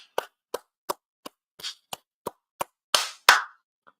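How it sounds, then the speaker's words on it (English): About a dozen sharp hand claps, spaced irregularly, from just one or two people close by; not a full crowd. "Give ourselves a round of applause"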